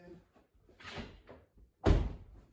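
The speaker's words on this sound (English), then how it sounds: "I have to open one of the doors real quick so it doesn't think I'm breaking" A door on a 2004 Toyota 4Runner opened up close: a soft latch rustle, then a solid, loud thunk as the door swings and settles, heard alone without talk.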